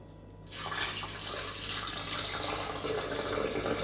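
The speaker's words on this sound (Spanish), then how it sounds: "lo que vamos a hacer es agregarle agua fría" Cold tap water pours steadily in for homemade rice milk, a close, loud, continuous splashing rush that starts abruptly and keeps going, with no talking.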